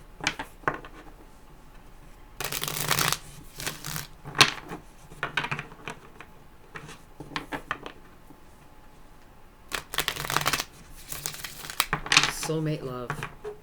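Tarot cards are shuffled in several bursts of riffling and crinkling, each lasting about a second, separated by short pauses and closing with a longer run of shuffling.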